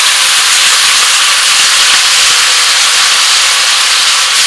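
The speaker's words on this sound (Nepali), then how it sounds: "अब यसमा राखेँ एउटा मिडियम साइजको प्याज मसिनो गरेर राखेको" Finely chopped medium onion hitting a hot pan for spinach paneer, a loud, even hiss of sizzling that stays constant and close for the whole stretch, no voices.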